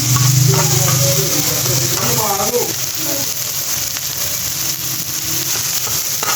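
Cumin, dried coriander, salt, chili and turmeric get mixed into tomatoes in a hot pan for a breakfast egg dish, a steady sizzle and frying hiss with scraping stir sounds, while someone talks over the first half.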